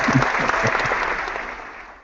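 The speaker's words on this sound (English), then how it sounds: "Applause." Studio applause sound effect, a dense burst of clapping that holds steady for a moment and then fades out over about two seconds.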